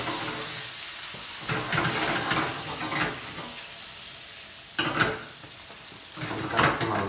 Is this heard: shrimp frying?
yes